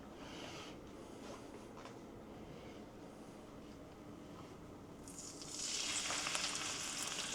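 Food frying in a pan for a chicken fettuccine Parmesan dish, a soft steady sizzle close by that swells into a brighter, louder hiss partway through.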